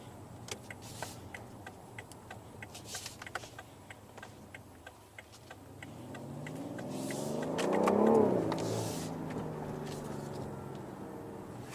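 A BMW M760Li V12 revs from inside the cabin, rising into a swelling, moderately loud engine note that peaks and then eases, over a steady ticking indicator and quiet road noise.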